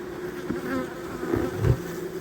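Honeybees buzzing around an open beehive on a fine autumn day, a dense steady drone of many wings, close and continuous with no voices.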